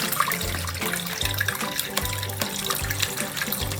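Water draining from soaked sago pearls in a Thai kitchen, a steady close pour and trickle with rhythmic splashing running throughout.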